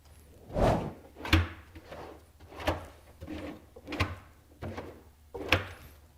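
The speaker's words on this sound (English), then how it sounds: "You got to love self-closing drawer slides." Workbench drawers on self-closing slides roll shut repeatedly, about seven soft thunks spaced roughly a second apart, each with a brief sliding rumble before the close, near and fairly quiet.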